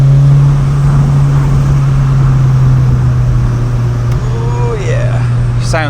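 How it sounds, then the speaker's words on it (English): A Renault Clio Williams Swiss Champion Edition with a Devil exhaust, heard as a steady, droning engine note with a strong low hum that holds throughout, with faint pitch sweeps near the end as it picks up speed. "sounds amazing with the Devil exhaust."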